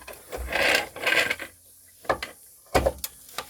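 A ratchet is worked on car suspension bushings: two close rasping strokes, followed by a few sharp isolated clicks and scrapes, with no talk.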